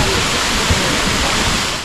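A waterfall at a Tennessee lake pours with a loud, steady, broadband roar that holds close and unbroken throughout, with no voices over it.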